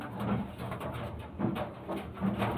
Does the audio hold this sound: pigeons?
yes